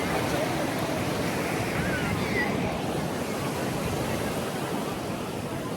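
Ocean surf washes continuously at Baga beach in Goa, a broad steady roar of breaking waves mixed with wind buffeting the microphone, with faint distant voices underneath.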